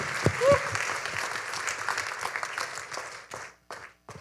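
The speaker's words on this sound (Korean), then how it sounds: "여러분 뜨거운 박수 한번 다시 부탁드리겠습니다." At a Korean CBMC business fellowship conference in Chicago, the audience gives a burst of applause that thins out toward the end into a few final scattered claps.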